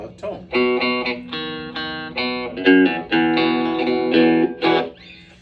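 Electric guitar played through a Legend Rock n Roll 50 hybrid amplifier with a boxy, twangy clean tone, a series of loud, ringing strummed chords and notes played alone.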